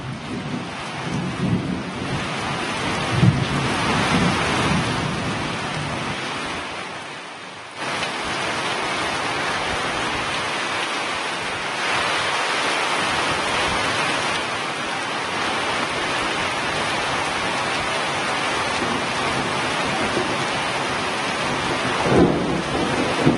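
Heavy rain with hail pours steadily with a dense roar in Karnataka, broken by deep rumbles of thunder; a brief lull near the middle before the downpour resumes.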